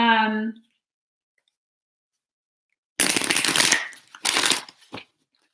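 Tarot cards are shuffled in two quick, crisp riffling bursts after a short spoken word and a pause of silence.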